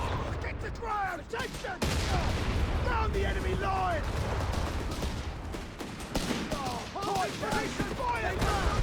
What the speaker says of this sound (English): Rifle grenade goes off.